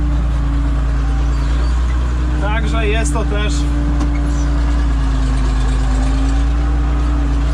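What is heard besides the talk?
six-cylinder tractor engine running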